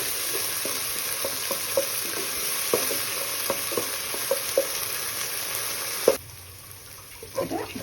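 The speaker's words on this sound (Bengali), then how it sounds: "দিয়ে সুন্দরভাবে নাড়াচাড়া করে এটাকে ভাজা ভাজা করে নেব।" Masala spiced with turmeric and salt is stirred and fried in a pan for a katla fish curry: a steady sizzle under scattered scraping clicks of the spoon, then a brief quieter pause.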